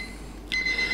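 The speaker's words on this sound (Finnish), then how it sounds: "Nyt täällä on pizza ilmeisesti uunissa valmis, semmonen piippaus tuolta kuuluu." An oven timer beeping to signal that a pizza is done, a clear electronic tone that starts halfway through and repeats in short steady pulses over a low room hum.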